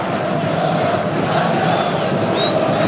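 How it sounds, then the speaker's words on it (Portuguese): Santos supporters cheering and chanting in a football stadium during a 2003 Brazilian league match against Corinthians, a steady distant crowd roar that fills the whole stretch without letting up. "E a torcida santista continua fazendo barulho, empurrando o time para cima do Corinthians."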